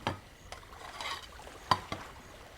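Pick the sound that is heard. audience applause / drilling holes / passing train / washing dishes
washing dishes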